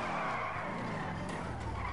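A car drifting in a racing video game, loud continuous tire skid and squeal with engine noise, lasting the whole short stretch with no talking.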